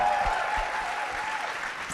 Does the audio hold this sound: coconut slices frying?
no